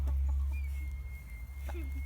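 Chickens cluck softly around a coop over a constant low hum, with faint voices nearby.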